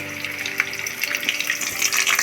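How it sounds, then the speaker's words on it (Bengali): Fish pieces fry in oil, a brief bright bubbling sizzle with small crackling bursts that grows a little louder toward the end, no voices. "এবার লো টু মিডিয়ামে রেখে এবার আমি মাছগুলো ভাজবো।"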